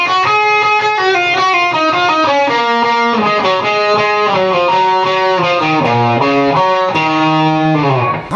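A loud, distorted electric guitar plays a harmony line from the intro lick of a song, with a stepping melodic run of sustained notes that ends on a long held note.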